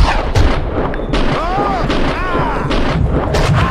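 Gunshots from the video game Max Payne 2, a few sharp loud bursts standing out against busy game sound, with no voices in the moment.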